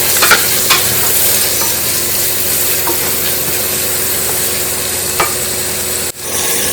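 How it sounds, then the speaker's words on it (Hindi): Green chillies and onions sauté in an oiled pan for Maggi noodles, giving a steady close sizzle with scattered crackles and a few stirring scrapes. It runs unbroken for most of the stretch, then briefly dips near the end. "उसके बाद हम प्याज डाल देंगे इसमें।"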